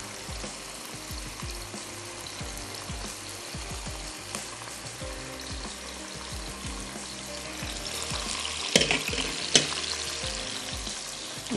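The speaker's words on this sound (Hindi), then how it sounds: "और इसमें मैं ऐड कर देती हूँ चिकन, ताकि चिकन हमारी कुक होना शुरू हो जाए।" Chicken frying in a pan sizzles steadily and close, with a few louder spatters and stirring clatters near the end, in a chicken mushroom gravy preparation.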